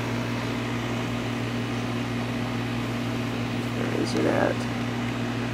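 A 2006 Goodman 2.5 ton straight-cool condenser with a Copeland scroll compressor and a small four-bladed fan runs at a large house, giving a steady hum and whir throughout while a voice speaks briefly near the end.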